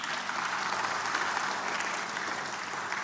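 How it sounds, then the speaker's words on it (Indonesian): A church congregation at a sermon claps together in a steady, fairly soft wash of applause that holds evenly without voices. "tolong tepuk tangan dulu, tolong tepuk tangan."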